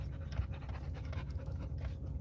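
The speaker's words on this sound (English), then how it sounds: "You relax, little dog." A small dog pants quickly and steadily, close by, in short rhythmic breaths with no talk over it.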